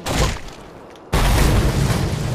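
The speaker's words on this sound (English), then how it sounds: "Did I just light that can on fire?" A fuel can bursts into flames in the Mad Max video game, a sudden loud boom that cuts in after a quieter stretch and holds as a sustained roaring blast.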